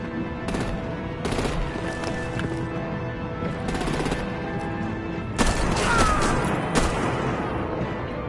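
Artillery gunfire in the Telltale game Batman: The Enemy Within, episode 2: repeated heavy bursts of rapid shots over a dense, continuous din of combat noise, with a louder cluster of blasts toward the end.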